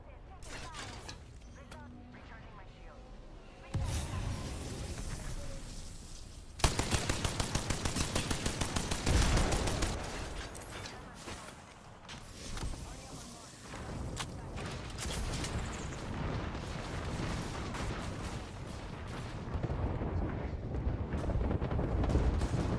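Automatic and rapid gunfire bursts in the Apex Legends battle-royale game, loud and close with dense repeated shots and impacts over a continuous noisy backdrop, while a player talks over the action.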